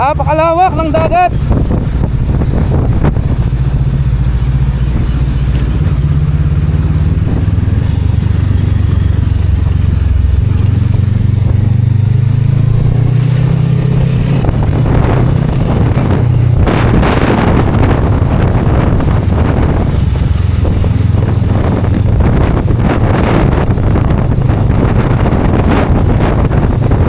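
Strong wind roaring across the microphone during a motorcycle ride along the sea on the way to Madongan Dam, a loud constant buffeting with engine drone underneath and a voice speaking occasionally.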